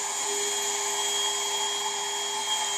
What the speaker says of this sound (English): I'll turn on my blower. That'll keep the air flowing out.